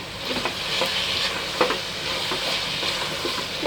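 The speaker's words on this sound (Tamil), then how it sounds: "இது நல்லா மிக்ஸ் பண்ணி விட்டப்புறம்" Coconut milk vegetable biryani is stirred in a pan, a close and continuous sizzle broken by soft scraping and clicking of the spoon.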